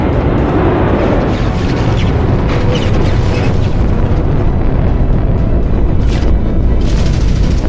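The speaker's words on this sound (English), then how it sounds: "We need to fire back, Sarah." Spaceship weapons firing and heavy explosions in a Space Engineers battle against pirates, a continuous loud rumbling roar with bursts of blasts throughout.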